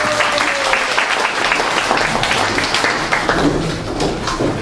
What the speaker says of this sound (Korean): 주님께 영광의 박수를 올려드리겠습니다